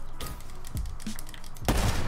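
Gunfire in Black Ops 3, a few sharp shots scattered across a short stretch, the last one loudest and closest, with no talk over them.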